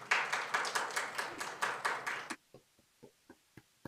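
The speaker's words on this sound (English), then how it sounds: "Let's clap for that." Audience clapping at a law event on race, a small group's brisk rhythmic claps for about two seconds that stop abruptly, then a few scattered single claps trail off into near silence.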